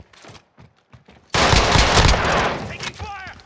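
Sustained automatic gunfire in Call of Duty Modern Warfare Alpha erupts loudly after a short stretch of quieter in-game sounds, a dense rattling burst that tapers off near the end.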